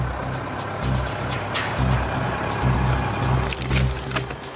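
A paramedic's emergency motorbike rides straight up a path to reach an asthma patient, its engine a steady low drone that swells and eases as the throttle changes, moderately close.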